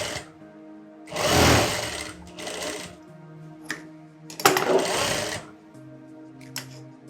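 A sewing machine stitching cloth for a girl's skirt and blouse runs in two loud, fast whirring bursts of about a second each, with quieter mechanical clicks and handling sounds between them, close up.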